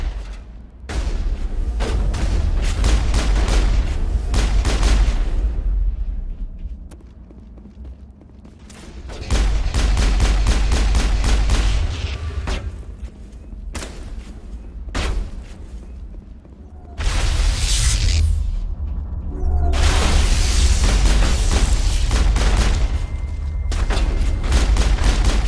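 Bursts of sniper and shotgun fire in the Mass Effect video game, loud clusters of rapid shots and booms separated by quieter gaps across the stretch.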